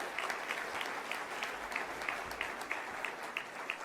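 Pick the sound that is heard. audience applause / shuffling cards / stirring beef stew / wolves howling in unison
audience applause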